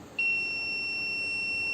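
A student robotics project's motion sensor triggers an electronic beeper, a sudden loud, steady high-pitched tone that starts abruptly and holds continuously.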